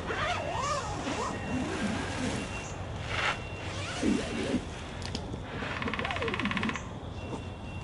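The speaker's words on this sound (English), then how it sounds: "options of where you can do and undo your zipper there" A hammock's zipper is pulled open and shut in a few quick runs, close up, with a voice talking quietly in between.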